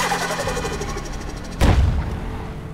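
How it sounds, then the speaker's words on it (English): A sharp, loud bang like a gunshot bursts over a steady engine drone, a single backfire-like crack from a GTR car in GTA 5 that booms and fades. "Ooh, and it got backfiring like it's gunshot"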